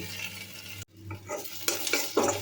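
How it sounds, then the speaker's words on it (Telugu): Onions fry in a little oil in a pan on a gas stove with a steady sizzle. It cuts out briefly, then returns as louder crackling with stirring noises. "ఇందులో కొద్దిగా ఆయిల్ వేసుకొని ఆనియన్స్ వేసుకొని బాగా వేయించుకోవాలి"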